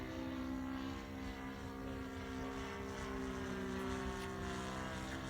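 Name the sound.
model PT-19 airplane with Saito 180 engine on first flight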